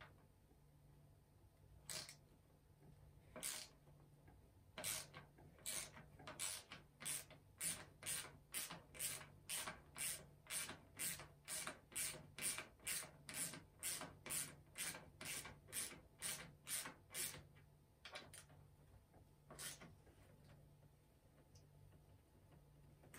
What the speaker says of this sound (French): je prends mon cliquet avec ma douille de 10 et j'enlève mes 4 vis de pontet qui tiennent mon guidon